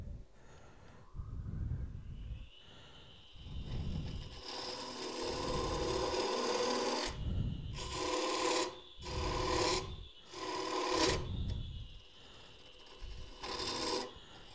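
Hand rasp worked in repeated drill-and-pull strokes across hard oak, a loud rhythmic scraping of about a dozen strokes with brief pauses between, close and without talk.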